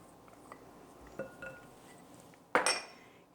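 Cornstarch being scraped out of a bowl, quiet scrapes and light taps followed by a sharper clinking clatter of utensil against the bowl near the end, close with no talking.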